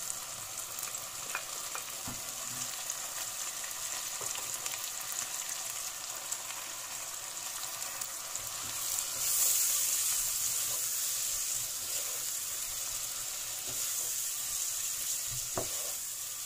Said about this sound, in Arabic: دلوقتي هنزل بالطماطم والكزبرة المفرومة ونص كمية البهارات.